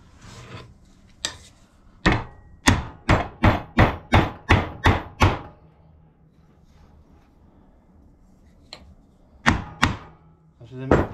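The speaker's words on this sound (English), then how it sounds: "That's what they make big hammers for." A big hammer pounds a bent piece in a woodworking shop, with a few scattered blows and then a quick run of about eight evenly spaced, loud, close thuds, followed by a pause and a few more strikes.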